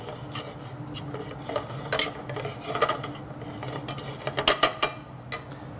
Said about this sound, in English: You toss that until the arugula is wilted.